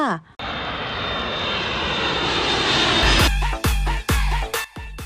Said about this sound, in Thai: เพราะว่าเครื่องบินพร้อมที่จะเทคออฟแล้ วค่ะ